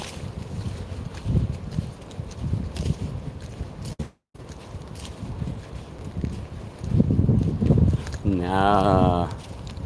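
Horses walk in the rain outdoors, their hooves thudding irregularly beneath wind and rain noise, while people talk nearby and a brief electronic tone rises near the end.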